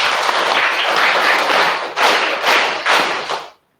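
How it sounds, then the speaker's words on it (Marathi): A class of fifth-grade schoolchildren at a residential ashram school claps loudly to welcome a guest. The dense, close applause swells in a few bursts and then stops abruptly. "जोरदार टाळ्या वाजून आपण त्यांचं स्वागत करतो"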